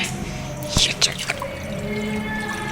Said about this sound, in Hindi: बिल्कुल साफ़ सुथरा पानी डाल रहा है।